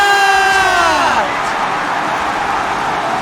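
An esports watch-party crowd at a Valorant VCT LOCK IN match cheers loudly, a roaring wash of voices under a descending whistle-like tone that fades in the first second.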